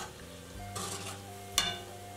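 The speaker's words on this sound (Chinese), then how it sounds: "我们一定要用小火慢炸，防止把红薯炸糊或者是炸不透。" Sweet potato vermicelli deep-fries in oil over low heat, giving a continuous close sizzle while it is stirred, with a brief scrape or clink partway through.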